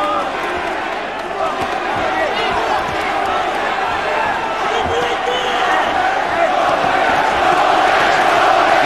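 A crowd roars continuously throughout a boxing arena during a WBC world featherweight title fight, a dense, loud wash of voices with a commentator talking over it.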